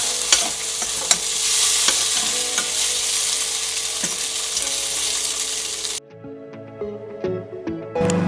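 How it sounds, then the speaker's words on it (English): Tofu sizzles steadily in a hot pan while a utensil scrapes and stirs with irregular clicks; the sizzle cuts off sharply near the end, leaving quieter stirring. "Stir them up."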